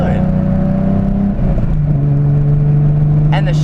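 A BMW E30 with its 2.5-litre engine stroked to 2.7 revs up nearby, a steady mechanical drone that climbs and shifts pitch, with a brief dip partway through and a rising whine near the end.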